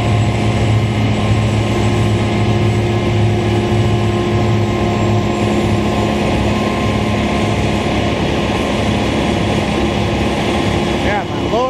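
A heavy snow blower clears snow on a downtown Montreal street in winter, its loud, steady engine roar running unbroken from start to finish while people talk nearby.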